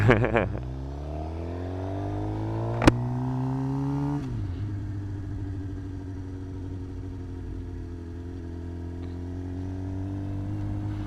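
A 2025 Suzuki GSX-R 750 sportbike ridden slowly through a parking lot, a blip of revs at the start, then a steady low engine hum rising gently in pitch, then a shift and a settled cruising drone, close and continuous.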